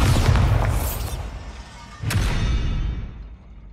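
Two booming explosions from the Bombarda spell in Hogwarts Legacy, one at the start and another about two seconds later. Each is loud and close, with a crackling burst and a rumbling decay, and no talk is heard.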